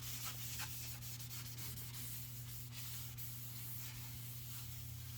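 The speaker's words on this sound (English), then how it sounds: "I'm just going to put some brake clean on this side of the rotor, get any of the grease off." Brake cleaner sprays in a continuous hiss onto a Dana 60 front disc brake rotor on a first-generation Cummins truck, steady and close over a low background hum, with no talking.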